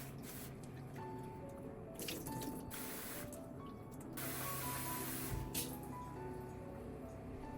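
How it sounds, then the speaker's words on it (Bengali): Gobindobhog rice being washed in water, with soft sloshing, dripping and splashing that comes in a few bursts, close by and fairly quiet, with no talk. "গোবিন্দভোগ চালটা ভালো করে ধুয়ে কিছুক্ষণের জন্য ভিজিয়ে রেখে দিলাম"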